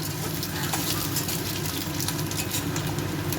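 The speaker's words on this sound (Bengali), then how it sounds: "আলুগুলো আমি লাল লাল করে ভেজে নেব।" Potatoes frying in hot oil for a vegetarian Bengali dish give a steady, dense sizzle that holds at an even loudness throughout, close and continuous with no voices.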